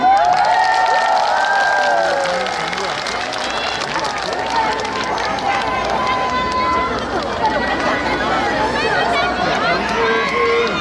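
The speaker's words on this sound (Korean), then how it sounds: "박수 해주시겠어요?" Outdoor festival concert crowd at the Yongin Cheoinseong Cultural Festival, a dense wash of applause, cheering and chatter sustained throughout, loud and close, with voices and shouts mixed in and no single speaker standing out.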